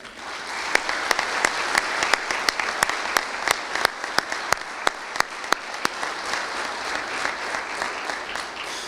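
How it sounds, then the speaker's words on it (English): Sustained applause from a sizable crowd at a fire department awards ceremony, steady clapping throughout with a few sharper claps standing out near the front. "So a big round of applause for Michael Smith."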